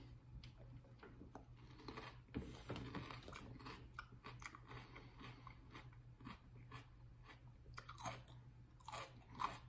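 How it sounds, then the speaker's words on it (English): Close, crisp crunching as a firm pepper is chewed, with repeated bites and rhythmic mastication over a low steady hum. "You hear that crunch."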